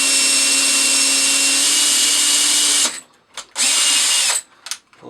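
Power drill fitted with a smaller bit, a loud continuous high whine that cuts off abruptly, then two short trigger bursts revving up and stopping, separated by quiet gaps.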